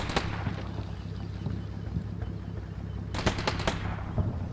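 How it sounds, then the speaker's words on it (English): A badly damaged tank's coaxial machine gun fires in the Combat Mission Shock Force 2 video game, with a steady low rumble underneath and a quick burst of several sharp shots toward the end. "A badly damaged tank reaches the overrun outpost. Only its coaxial MG is still working."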